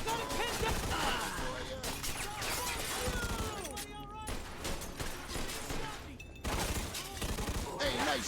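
Dense, loud gunfire from a Mafia II shootout: rapid bursts and overlapping shots run almost without pause, with a brief lull midway and crashing, shattering impacts mixed in. Voices are heard through parts of the barrage.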